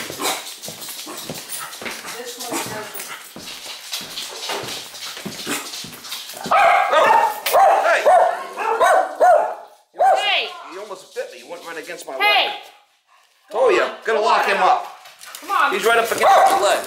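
Several dogs bark and yip loudly in repeated bursts close by at a site where two Ruud air conditioning units are being checked, with someone talking over and between the barks.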